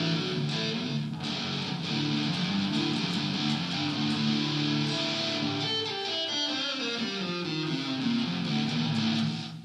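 Rhythm guitar played through both pickups at the middle switch position, one pickup passive with tone fully up and the other active with tone down, with delay and added ambience; a steady, full strummed sound that carries loud and continuous throughout, with repeating chordal changes and no talking.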